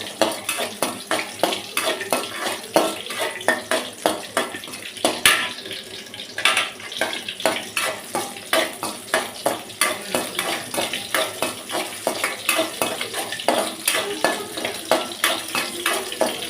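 Ingredients for a Tamil-style banana blossom poriyal sautéed in a pan, a steady rhythm of spoon scrapes and clinks against the metal over a soft sizzle, continuing without talk.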